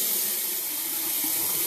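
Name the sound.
water running from a bathroom tap while rinsing face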